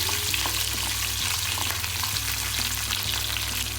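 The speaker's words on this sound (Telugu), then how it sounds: "ఇప్పుడు కరివేపాకు వేసుకున్నాం కొద్దిగా వేగిస్తాం" Curry leaves sizzle in hot oil with dried red and green chillies and chana dal for a temple-style chickpea tempering, a dense, steady frying crackle that carries on unbroken with small spatters throughout.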